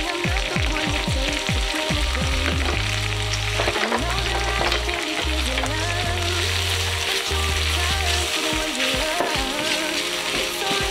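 Onions and garlic frying in butter and oil make a continuous sizzle with a constant level, heard under steady background music.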